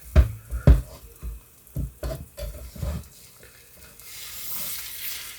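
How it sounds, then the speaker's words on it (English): A two-egg omelet cooks in a frying pan; a utensil knocks and scrapes against the pan in uneven strokes, then a soft, steady sizzle rises toward the end. "This may not be a great shaped omelet, but let's see if we can at least square it up here."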